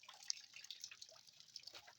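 Water drips from freshly washed clothes hung outdoors to dry in snowy weather, light scattered ticks and plinks with a faint trickle, quiet and close.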